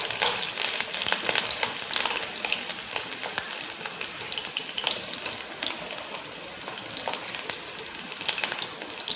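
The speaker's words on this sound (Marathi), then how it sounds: "इथे मी तेल टाकून घेतलेलं आहे. आता यात मी मिरची टाकून घेते आणि छान असं मिक्स करून घ्यायचं." Green chillies sizzle and crackle in hot oil as they are stirred, a loud, continuous frying hiss with scraping stirring noises close by.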